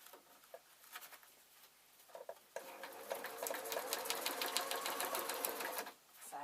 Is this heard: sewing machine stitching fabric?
yes